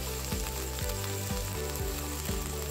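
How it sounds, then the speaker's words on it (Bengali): Onion paste frying in oil tempered with black cumin, a faint steady sizzle with a soft repeating knock from stirring, no talk. "ফোড়ন ভাজা হয়ে গেলে দিয়ে দিচ্ছি পেঁয়াজ বাটা"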